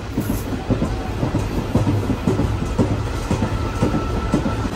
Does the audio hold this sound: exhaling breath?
no